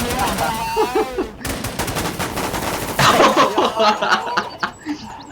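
Rapid bursts of automatic gunfire in the online shooter WarZ, with players talking and laughing over the shots throughout.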